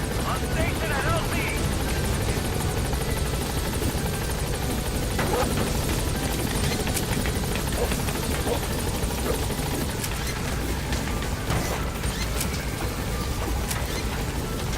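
Helicopter arriving at a landing zone in Metal Gear Solid V: The Phantom Pain, a continuous loud rotor thrum and engine roar throughout, with voices talking over it.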